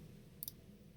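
Single computer mouse click on a New Project button, a crisp faint double tick in a quiet room, with no speech.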